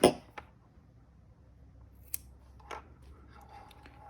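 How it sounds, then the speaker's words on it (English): Scissors snip through knitting yarn after an I-cord bind off, giving a few quiet, sharp clicks spaced apart over faint room hush. "now you can cut your yarn"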